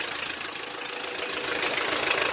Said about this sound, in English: Now let's turn the engine on again.